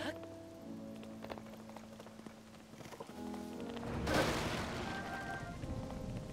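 Rain starts falling in a video game. Scattered plinks and tones give way to a sudden broad hiss of rainfall that keeps going to the end.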